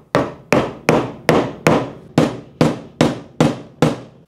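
New bearings hammered into a Ducati Hypermotard 1100 S part, ten sharp, evenly spaced hammer blows ringing out close and loud in a steady rhythm.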